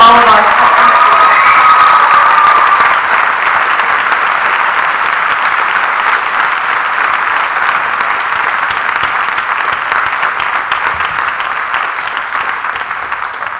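Sustained rousing applause with some cheering from a large crowd at a fall college convocation ceremony, loud and steady throughout and slowly tapering toward the end, with no talk over it.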